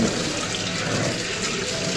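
Running water splashes steadily over raw chicken feet being rinsed, a continuous close hiss of flowing water with no pauses.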